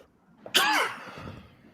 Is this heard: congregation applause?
no